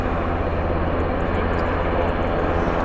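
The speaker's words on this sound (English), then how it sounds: "a Cessna Citation taking off as well" A Cessna Citation jet takes off at Stansted Airport, a loud, unbroken engine roar holding steady throughout the short stretch, close and dense, with no talking over it.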